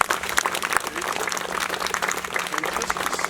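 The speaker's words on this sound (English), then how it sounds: "a round of applause" Audience applause at a celebration-of-life memorial gathering, a dense, sustained wash of many hands clapping with some voices mixed in beneath it.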